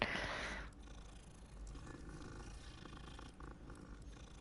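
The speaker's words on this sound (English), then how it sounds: "Another kitty cat!" Purring from a cat in the video game Hogwarts Legacy, a soft continuous low rumble that carries on steadily after a brighter burst at the start.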